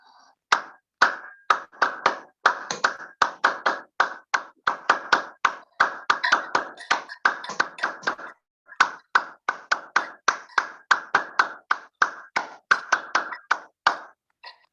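Rapid, steady hand clapping during a yoga exercise, dozens of sharp close claps in an even rhythm with one brief pause midway, no talk.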